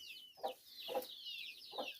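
A few soft, low clucks from a marked mother hen spaced about half a second apart, quiet and close, with higher chick peeps chirping continuously in the background.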